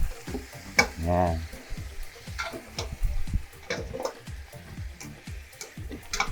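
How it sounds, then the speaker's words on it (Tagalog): Pork leg pieces sauté in a pan for pork nilaga, giving a moderate sizzle broken by utensil clicks and scrapes, while someone speaks briefly over it. "ilalagay na natin yung ating pata. At igigisa po natin yan"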